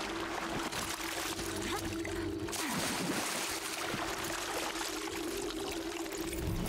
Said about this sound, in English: Let's just take a swim in this frigid water.